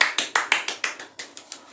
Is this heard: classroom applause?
yes